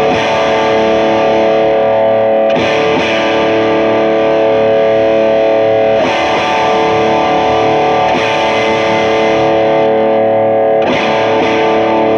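An electric guitar runs through an overdrive pedal while the tone knob is swept, its strummed, crunchy chords ringing continuously and loudly. Strums are re-struck every few seconds, and the tone shifts between brighter and darker.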